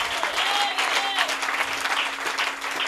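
A church congregation applauds during a service, with dense clapping throughout. Voices and a cheer or two mix in, and a steady hum runs underneath.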